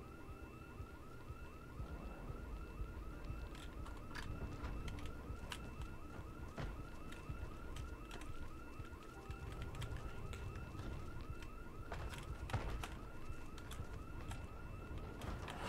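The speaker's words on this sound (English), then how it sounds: "The house alarm might divert zombies" A house alarm rings in Project Zomboid, a steady rapid warbling tone repeating throughout over a dense background of game ambience and occasional sharp knocks.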